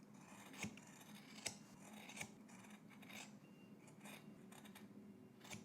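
Scissors snip fabric in a quiet room, trimming the seam allowance on a Simplicity 3168 jacket and cape, with several distinct close cuts at irregular intervals and soft rubbing of cloth between them.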